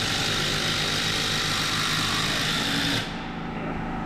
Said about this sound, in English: Make sure when you're screwing down as well, you want the bolt to go in about that much.